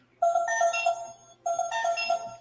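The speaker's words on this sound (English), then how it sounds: "That's the ring. You have an incoming call." A bright electronic toy phone ringtone trills in two bursts separated by a short pause, close and fairly loud, with no voices.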